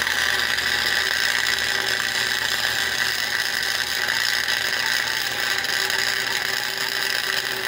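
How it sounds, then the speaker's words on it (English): A welder running a bead along a seam on a 20-foot trailer, giving a continuous close crackling and buzzing hiss that stays steady and fairly loud, with no talk. "Yes, I know I need a bigger welder"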